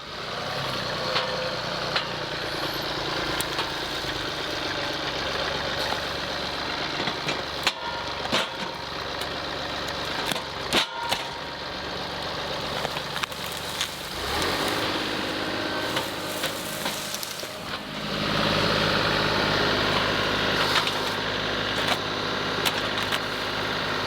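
A small tractor engine idles at a site being cleared for a building, giving a steady, continuous mechanical drone that runs unbroken and grows slightly louder near the end.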